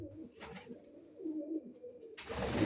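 Pigeons being fed grain coo in soft, low, rolling calls, close but faint, ending with a sudden loud burst of rustling noise.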